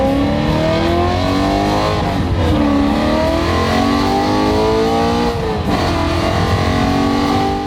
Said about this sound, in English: The E92 M3 can scream.